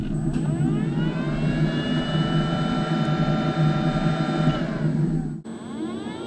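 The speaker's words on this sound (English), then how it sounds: "After riding for a long time, you can hear the fan kicking off." A cooling fan inside a GotWay MCM5 electric unicycle whirs steadily with a rising whine, loud and close, then cuts off abruptly near the end leaving quieter background.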